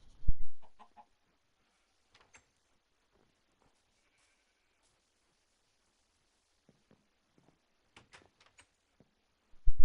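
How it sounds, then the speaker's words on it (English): A Minecraft chicken gives short clucks, one brief burst near the start and another at the very end, with near silence in between. "Looks like the chicken already laid an egg"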